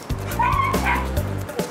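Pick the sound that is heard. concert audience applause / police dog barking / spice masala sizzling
police dog barking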